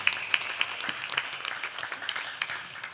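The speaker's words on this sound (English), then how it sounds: "Give Jasmine a big hand, please." An audience at a Ram Mandir temple anniversary gathering in Mississauga claps for a few seconds, a scattered, fairly faint round of applause with no talk over it.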